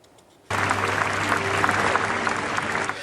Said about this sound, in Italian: Applausi all'arrivo e all'uscita delle bare di Andrea Miceri, Salvatore Turdo e Massimo Pirozzo